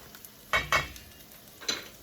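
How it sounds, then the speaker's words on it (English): Three short scraping stirs of macaroni in a pot of boiling water, close by, with quiet bubbling in between. "And stir it up a little bit."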